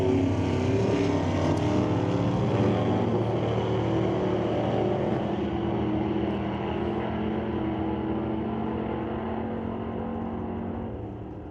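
A Camaro and a Mustang drag race side by side on a strip, a loud, steady wall of engine roar held near constant before slowly fading away.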